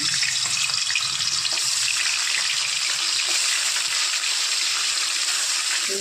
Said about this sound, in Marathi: पनीर असं आपण तेलामध्ये टाकून तळून घेतलं की त्याच्या वाटलं छान गुलाबी होईपर्यंत ते परतून घ्यायचं